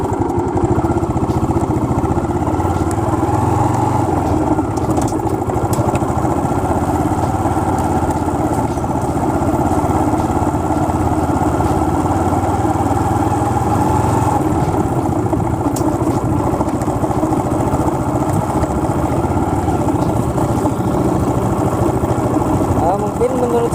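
A Honda CS1 motorcycle engine with a manual gearbox, running steadily and loudly throughout a ride around the local streets, its constant mid-pitched drone only rising and falling slightly.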